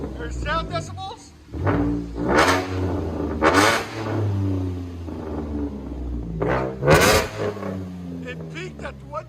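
A 2013 Chevy Camaro V6 with a straight-pipe true dual exhaust and Vibrant bottle mufflers revs hard in several sharp, loud throttle blips, with someone talking between and over the revs.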